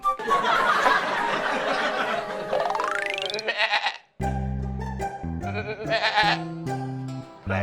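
A person imitates a goat, letting out wavering bleats, with some chuckling mixed in.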